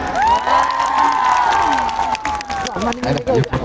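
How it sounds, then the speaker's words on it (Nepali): A festival crowd at an outdoor event in Pokhara cheers and applauds loudly and close by, with high shouts, whoops and whistles rising over dense clapping. "एकचोटि जोरदार ताली हुनु पर्यो।"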